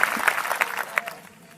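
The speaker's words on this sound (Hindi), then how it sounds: "इनके लिए ताली बजा दीजिए" An audience at a religious gathering claps briefly, a short burst of applause that peaks quickly and fades away within about a second and a half.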